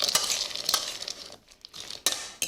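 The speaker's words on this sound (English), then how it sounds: "And we'll just mix that together." Cut vegetables and diced ham stirred together for a casserole in a bowl, a close series of scraping, clinking utensil strokes with brief pauses, no voices.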